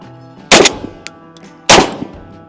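Two loud Mossberg 990 shotgun blasts about a second apart, each sharp crack trailing into a short echo, with a faint clink between them at a range where the gun has been jamming and double-feeding.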